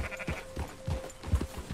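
A sheep in the video game Red Dead Redemption 2 bleats a few times in short, wavering calls, moderately loud, with no talking over it.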